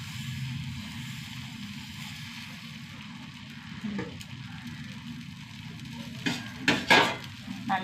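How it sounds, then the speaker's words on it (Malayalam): Batter crisps in a hot pan with a soft, steady sizzle, and toward the end a utensil scrapes and knocks against the pan in several short bursts. "കുറച്ച് മാവ് ഒഴിച്ചിട്ട് മൊരിയിച്ചെടുക്കാം"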